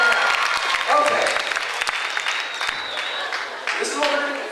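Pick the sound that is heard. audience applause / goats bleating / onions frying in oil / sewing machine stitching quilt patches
audience applause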